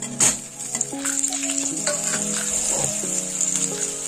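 Fried potatoes are tossed into hot oil spiced with bay leaf, dried red chilli and whole garam masala, giving a steady close sizzle with scraping stirs and a sharp clatter at the start.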